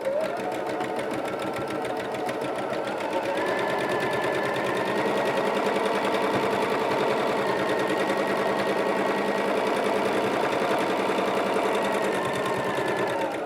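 Sewing machine stitching quilt rows over pins, a steady, rapid, continuous mechanical whir running close and unbroken throughout, with faint talk underneath.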